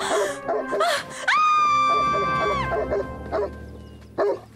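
A dog lets out a long, loud, rising whine, with short yips and barks before and after it, heard close up.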